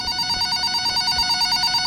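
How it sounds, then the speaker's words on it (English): A telephone rings in a video game, a steady electronic trill repeating continuously and fairly loud, with no voices over it. "Phone starts ringing."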